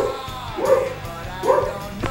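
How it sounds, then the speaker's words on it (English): Two dog barks, about a second apart, somewhat muffled as if from another room, with a faint whine in between. "you can probably hear my dogs again"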